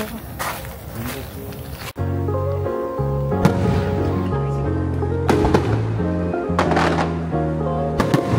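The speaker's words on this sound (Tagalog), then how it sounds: "May fireworks show sila ngayon. Ang tawag nila Hanabi." Booming hanabi fireworks bursts with crackling, repeated explosions at irregular intervals over a steady background of music and crowd murmur, at a summer fireworks show in Shizuoka, Japan.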